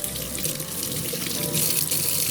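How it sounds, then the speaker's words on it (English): Tap water runs steadily into a sink while a soy milk maker is washed, a loud, close, continuous rushing splash with no voices. "it's better to wash using warm water, using a soft bristle brush"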